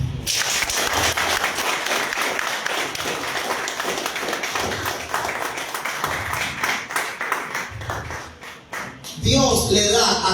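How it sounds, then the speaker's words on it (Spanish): Church congregation clapping during a Spanish-language sermon, a dense, loud stretch of rhythmic clapping with voices mixed in, ending abruptly near the close. "Dale un aplauso a Dios."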